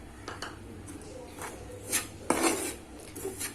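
Spoon scraping and clinking against a pan while stirring cardamom powder into a wheat atta laddu mixture, a series of irregular metallic scrapes and taps, close and fairly clear.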